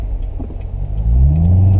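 2014 Chevrolet Corvette Stingray exhaust note while driving at low speed, a deep rumbling drone that swells louder as the throttle opens partway through.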